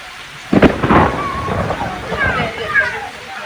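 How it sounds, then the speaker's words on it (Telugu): Steady rain falls outdoors on a family trip toward Tirupati while a deep roll of thunder booms in and rumbles on for several seconds, loud and close, with voices faintly in the mix. "వర్షంతో పాటు ఉరుములు మెరుపులు కూడా మెరుస్తున్నాయి"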